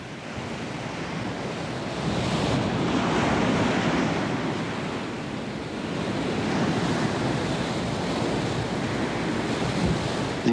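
Ocean waves wash against the shore along the northern California coast below a cliff, a broad continuous roar of surf that swells and eases with wind noise over the microphone, and no voices.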